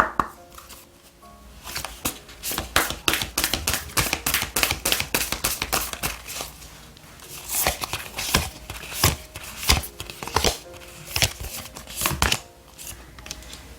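A deck of oracle cards shuffled by hand in quick, crisp riffles and taps, close and clear, in repeated bursts with short pauses and no talking.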